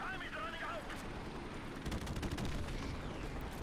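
Game gunfire in Modern Warfare Remastered crackles in rapid bursts, strongest in the second half. The shots are moderately loud amid battle noise, with no talk over them.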